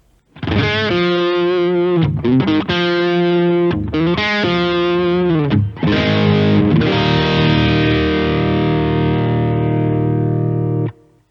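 Distorted electric guitar chords, without a Tube Screamer pedal, chug in short bursts, then one big chord rings out and sustains for several seconds before cutting off.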